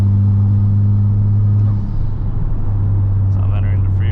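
Honda Civic Type-R fitted with an Invidia R400 exhaust pulling hard onto a freeway, a loud deep engine drone from inside the car that shifts pitch partway as it accelerates, with someone talking over it.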